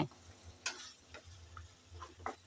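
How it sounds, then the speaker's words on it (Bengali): Goat head and chana dal curry being stirred in a pot: a few soft scraping strokes over a quiet low simmer, fairly faint and close. "আবারও আমি একটু নাড়িয়ে দিলাম"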